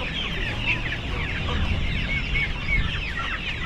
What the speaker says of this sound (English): all the chickens are out on there.